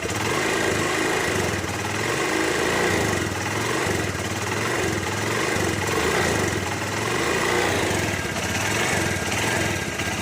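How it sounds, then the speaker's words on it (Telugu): A motorcycle engine idles steadily at close range with an abnormal repeating knock, its rough, even drone and rhythmic thumping continuous throughout with no talking. "నాకు ఇంజిన్లో ఏం ఏదో సౌండ్ వస్తుంది"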